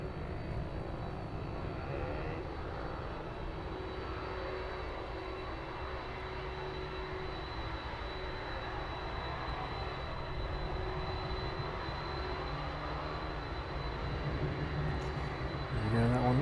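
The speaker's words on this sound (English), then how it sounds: "Final departing aircraft of this evening's stream, making its way down to the start of runway 27." Airliner departing East Midlands Airport in the evening, heard from a distance as a steady, sustained jet roar that builds slightly toward the end.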